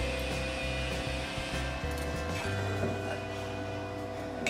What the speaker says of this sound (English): I am using for making dough this food processor